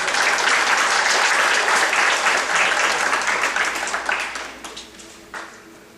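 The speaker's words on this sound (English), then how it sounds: "So you please give her a round of applause." An audience at a 5th grade graduation ceremony for St. Paul School of Excellence claps in a loud, dense round of applause that holds steady and then thins out into scattered final claps.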